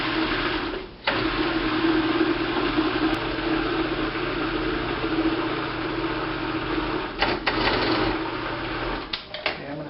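A food processor blends ice cream with a little milk, a loud, steady motor whir with brief dips and sputters near the start and again toward the end as the frozen chunks churn.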